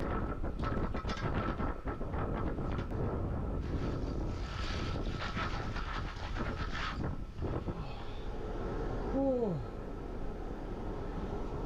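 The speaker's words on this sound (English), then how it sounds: "it's a little bit windy out there" Steady wind rushes and buffets the microphone outdoors amid snowdrifts, with faint rustling and a brief whistling tone near the end.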